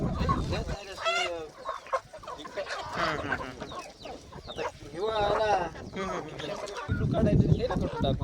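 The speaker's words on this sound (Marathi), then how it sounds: "कोंबडे तेवढे विकता आणि कोंबड्या विकत नाही का" Colourful free-range country chickens and roosters on a farm cluck in the background while people converse over them, the bird calls scattered and mostly beneath the talk.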